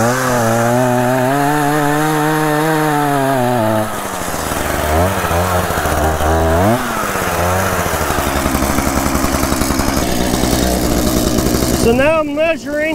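A gas chainsaw cutting a log at an off-grid tiny-house property, running loud and close with its engine pitch rising and falling as it revs and works through the wood.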